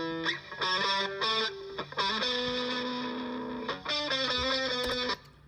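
A distorted electric guitar plays a melodic phrase of sustained and shifting notes with a short room reverb plus a reverb panned left, giving a roomy, reverberant ambience, alone without voices.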